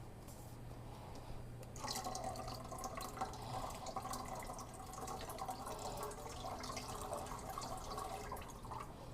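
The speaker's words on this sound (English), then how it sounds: "Now we're gonna add our chicken broth." Chicken broth is poured into a pan of heavy whipping cream for a creamy garlic mushroom chicken dish, a steady liquid splash and trickle running continuously from about two seconds in, close and fairly quiet.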